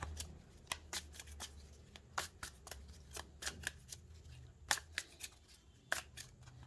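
Tarot cards are shuffled by hand in a quiet room, sharp crisp riffles and slaps coming in irregular bursts, close and fairly soft.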